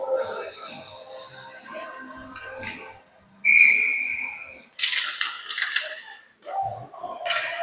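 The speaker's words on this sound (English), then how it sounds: "Linesman seeing an infraction on that face-off. Whistling right away." Referee's whistle at an ice hockey face-off, one short, sharp, piercing blast amid arena crowd noise and commentary.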